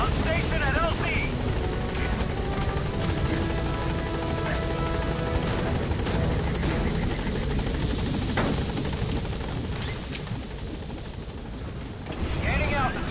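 Rotor thrum and turbine roar of a helicopter landing and departing in Metal Gear Solid V: The Phantom Pain, loud and continuous, easing slightly toward the end, with radio voices and game sounds over it.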